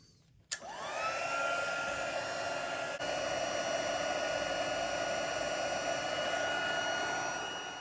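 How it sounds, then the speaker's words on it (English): A heat tool switches on with a click and blows a steady, loud whirring hum while melting embossing powder on a card, continuing unbroken to the end. "I'm going to heat it, melt the embossing powder"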